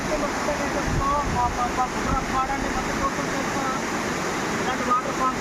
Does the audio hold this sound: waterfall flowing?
yes